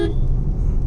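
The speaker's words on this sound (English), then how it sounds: "The horn is of course Maruti like" A single short horn toot from a Maruti Suzuki Fronx, 1.2-litre naturally aspirated, sounds briefly over low car rumble.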